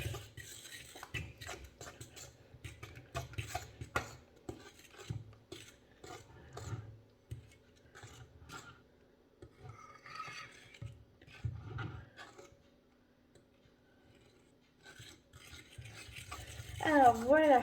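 A zucchini quiche mixture being stirred in a bowl, with repeated scraping and tapping strokes in uneven bursts, close and fairly quiet, pausing at times before a louder stretch at the end.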